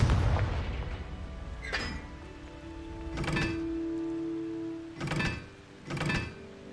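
Confringo blasting-curse explosions in Hogwarts Legacy, four separate booming blasts a second or so apart, each a sharp burst with a short rumbling tail, over a soft background hum in the game.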